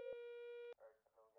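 A telephone signal sounds in the emergency-dispatch video game Operator 911. One steady, loud electronic tone holds for under a second and cuts off, followed by faint muffled noise.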